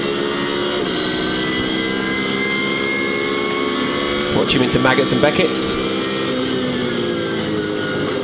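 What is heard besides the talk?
V8 GT race car engine revving out of pits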